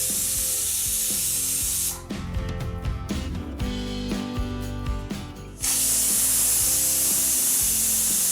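A pressure cooker holding Kashmiri vegetable pulao rice lets off loud, steady steam whistles, a broad rushing hiss that drops away briefly in the middle and then returns at full strength.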